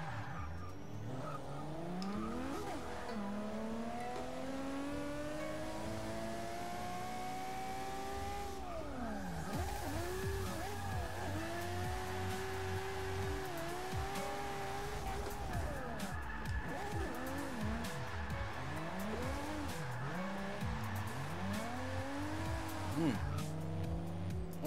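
A Nissan 370Z races in Forza 6, its engine revving up and down through repeated gear shifts and sweeping pitch changes while tires squeal and skid through corners, loud and continuous throughout.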